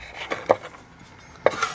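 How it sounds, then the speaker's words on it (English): A kitchen knife chopping garlic finely on a cutting board while preparing Chinese egg foo young: a few sharp, close knocks in two quick pairs separated by a pause, with no talking. "Just chopping the garlic up a little bit finer than the rest."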